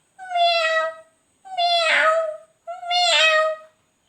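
A voice mimics a cat's meow three times in a row, each drawn-out call evenly spaced and close, clear and alone.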